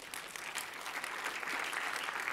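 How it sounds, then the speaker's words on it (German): Festival closing audience applauding, a steady crowd of claps sustained throughout at moderate distance. "Dafür bitte auch nochmal einen Applaus"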